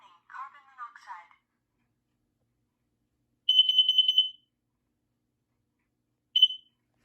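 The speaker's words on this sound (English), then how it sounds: "Kidde carbon monoxide alarm." Kidde carbon monoxide alarm giving a shrill electronic beep lasting almost a second, then a single short chirp a few seconds later, both close and clear after a brief spoken announcement from the device.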